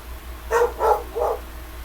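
A dog barks three times in quick succession, moderately close, over a quiet low background hum.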